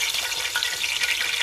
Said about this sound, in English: So it's time for me to start frying my fish.